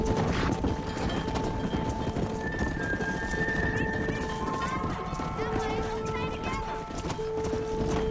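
Wild horses gallop in the Western video game Red Dead Redemption, with rapid clip-clopping hooves and whinnies over a sustained musical drone and a voice talking.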